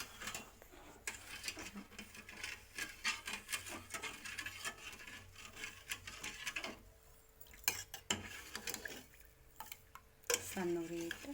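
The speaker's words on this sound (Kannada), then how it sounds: "ಸಣ್ಣ ಉರಿ ಇಟ್ಟು ಹಿಂಗೆ ಕಡ್ಡಾಡಿಸ್ಬೇಕು ರೀ" Sugar syrup is stirred in a pan over a low flame, with repeated close scraping and clinking of a spoon against the metal and occasional pauses.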